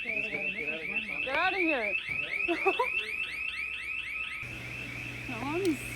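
A building alarm beeps in a steady repeating pattern, fairly quiet and partly buried under several people talking and moving about nearby.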